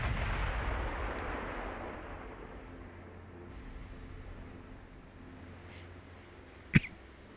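Naval guns firing in the warship game Ultimate Admiral: Dreadnoughts: a deep booming rumble fades slowly from the start, followed near the end by a single sharp, sudden report.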